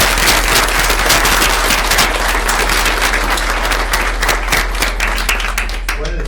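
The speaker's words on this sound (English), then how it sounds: "So please give Karen a big round of applause" A loud, dense round of applause for a teacher at a board meeting, sustained throughout and tapering slightly near the end.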